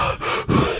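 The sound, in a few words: person breathing into a podcast microphone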